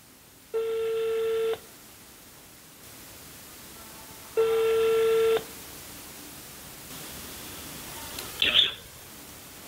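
Telephone call being placed: two long, even ringing tones about a second each with quiet pauses between, then a short sharp electronic blip at the end.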